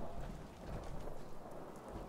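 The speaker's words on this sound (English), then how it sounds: "It is raining, isn't it?" Steady rain with low rolling thunder in the Fallout 4 game world, a dense continuous wash with rumbling underneath, fairly close and with no talking.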